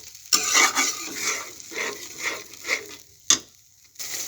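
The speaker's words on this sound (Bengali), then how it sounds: "এবার আমি সুন্দরভাবে একটু কষিয়ে নিচ্ছি।" Chicken with yogurt is stir-fried in a pan, with soft sizzling under a series of spatula scrapes and stirring strokes, and a sharp metallic tap partway through, fairly close and moderately quiet.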